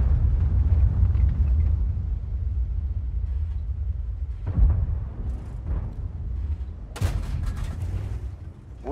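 A deep booming tank cannon blast in World of Tanks, over a rumbling engine drone, followed by a sharp crack and further explosive thuds.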